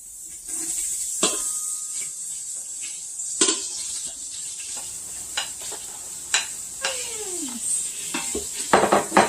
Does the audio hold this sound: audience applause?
no